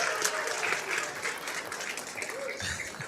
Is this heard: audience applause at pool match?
yes